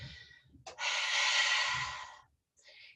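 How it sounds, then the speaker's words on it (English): Someone doing yoga releases a long audible breath out through the mouth, a close breathy whoosh lasting over a second between quieter inhales. "Let's do 3 exhales out through our mouth."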